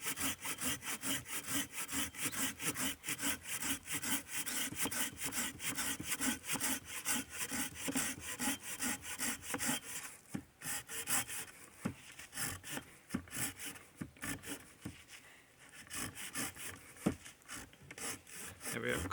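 A Silky folding saw rasps through dry wood in steady, rhythmic back-and-forth strokes, close and continuous, with the pace slowing slightly partway through.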